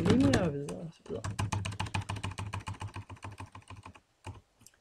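Rapid typing on a computer keyboard while entering an equation in Word 2010, a close, steady run of crisp key clicks that thins out toward the end, following a short burst of speech.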